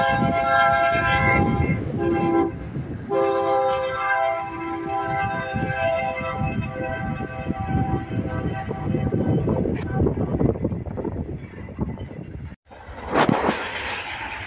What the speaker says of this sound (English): another train, not the one that was in the last video